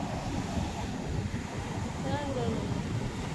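Muddy, churning sea water surges onto the shore with a steady, rumbling wash of waves, mixed with wind buffeting and a faint voice in the background.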